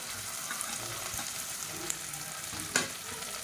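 Long-sliced large onions sauté in hot oil with mint and coriander, frying for paneer biryani; a steady, moderate sizzle runs throughout with a couple of brief stirring clicks and no talk.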